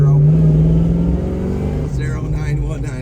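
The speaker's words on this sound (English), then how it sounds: "This car's running real good. I got it up to temperature." A warmed-up 1970 Chevrolet Chevelle engine runs loud and close. It gives a deep, steady rumble that rises and shifts as the revs change.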